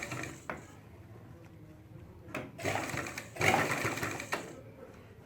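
A sewing machine stitches along the side zip of a ladies' pant in two or three short, close bursts separated by brief pauses, with quieter handling sounds between them.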